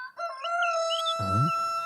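A rooster crows once, loud and close, in a South Indian film dubbed into Hindi. A long drawn-out call is followed by a rough, throaty finish.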